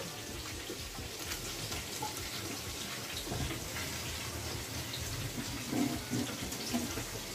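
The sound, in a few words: water being poured into a pan of braised fish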